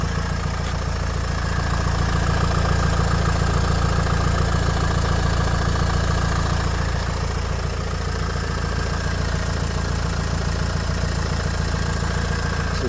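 A Renault Espace IV idles in drive with one front wheel removed and the other front wheel turning, producing a loud, steady engine drone with an even mechanical whir and no change in pace throughout.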